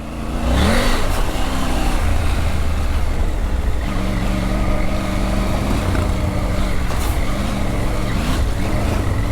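Triumph Tiger 900 Rally Pro adventure motorcycle riding off-road, its engine droning steadily and loud throughout with brief revving swells and continuous rumbling wind and terrain noise.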